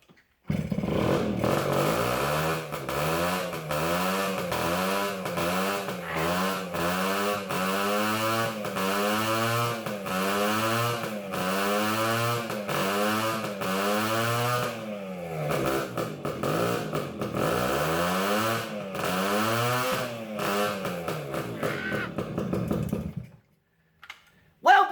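An old barn-find moped's two-stroke engine fires and runs steadily and close for over twenty seconds, a buzzy, rattling idle with rhythmic rises and falls in revs before cutting off abruptly near the end.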